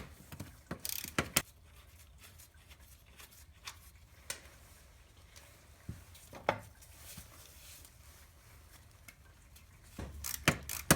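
A hand ratchet works on bolts on a Mazda RX8 during a starter replacement. Faint, scattered metallic clicks come in irregular short bursts against a quiet background, with a denser flurry of clicking near the start and the end.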